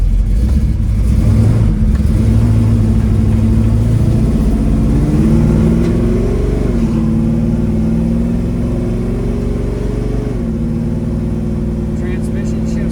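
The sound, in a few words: classic car engine driving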